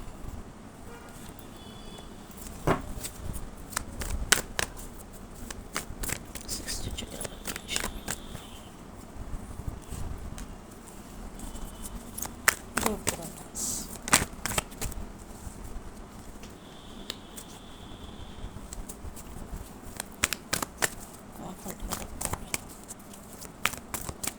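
Tarot cards are shuffled by hand in a repeated series of crisp riffling and patting bursts, close and fairly quiet, with brief pauses between runs and no talking.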